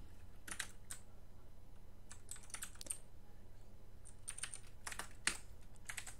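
Code being typed on a computer keyboard, quiet clusters of sharp key clicks in irregular bursts separated by brief pauses, close and alone in a hushed room.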